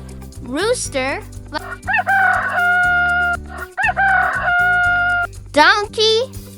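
A rooster crows twice in long, ringing cock-a-doodle-doo calls over light background music, with brief voice sounds at the start and end.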